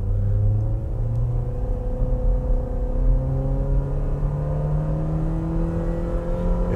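A 2021 Renault Duster with a CVT pulls hard from a standstill, its engine note rising steadily in a continuous whine and rumble heard from inside the cabin, with no talking.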